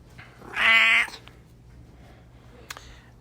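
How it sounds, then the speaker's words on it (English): A house cat gives a single loud, drawn-out meow close by, lasting about half a second, followed by quiet room noise and a faint click. "My cat says hi, by the way."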